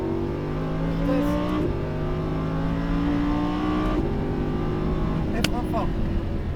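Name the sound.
Lamborghini Huracan accelerating around a track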